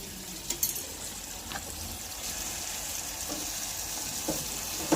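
Ginger garlic paste sizzling in a pan while cooking masala dal, a steady close frying hiss with occasional stirring clinks and scrapes, no talking.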